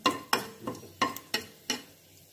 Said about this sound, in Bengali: এবারে কড়াইতে দিয়ে দিচ্ছি 5 ফোড়ন, দিয়ে দিলাম 2 শুকনো লঙ্কা আর তেজপাতা